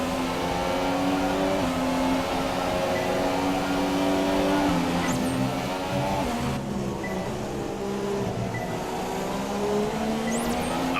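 A Formula 1 car engine in the F1 2017 racing game drones loudly and continuously, its pitch rising and dipping through gear changes and corners across the lap.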